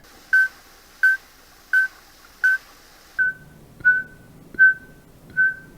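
A voice imitates a Natal cascade frog call with eight short, bright whistled notes in a steady, evenly spaced rhythm.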